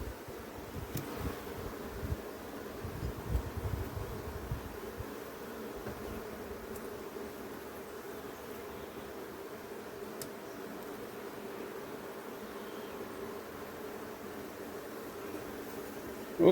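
Honeybees buzz around an open hive being worked, a continuous low droning hum that holds steady and fairly faint, with some rustling early on and no talk.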